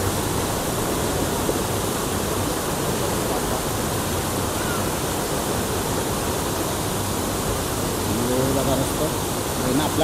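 Steady, dense rush of a waterfall fed by a small stream at Savdav in a scenic natural setting, a loud continuous broadband roar filling the whole stretch without pause, with faint voices surfacing briefly near the end.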